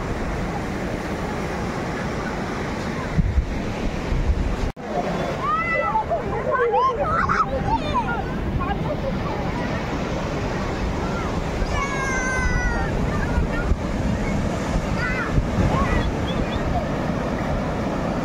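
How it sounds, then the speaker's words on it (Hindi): Big sea waves at Puri beach make a steady, close roar of surf with strong wind buffeting the microphone, and voices come and go over the noise. "पूरी सी बीच रे ढेउ गुड़िक पूरा बड़ बड़ ढेउ"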